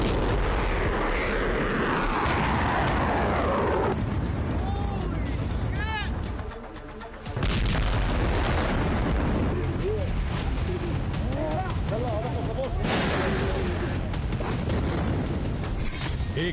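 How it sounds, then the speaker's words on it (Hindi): Missile strikes during a night attack on Israel, recorded from a ship, deliver heavy booming blasts and rumbling roars, loud and continuous, with a brief lull partway before the explosions resume. "इजराइल पर बीती रात लगातार हमले होते रहे और मिसाइलों के धमाके होते रहे"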